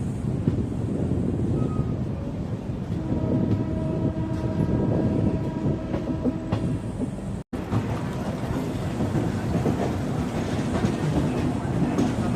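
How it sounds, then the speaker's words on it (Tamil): The Prashanti Express pulls into a station in a long, steady rumble of wheels and carriages, with rhythmic clatter and wind buffeting the microphone, close and loud throughout. "வந்துட்டாங்க நம்ம பிரசாந்தி எக்ஸ்பிரஸ் 30 நிமிஷம் ஏர்லியா"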